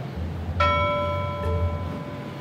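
A single bright bell chime on a game show, struck once and ringing out with a clear sustained tone that fades slowly, followed by a faint second tap.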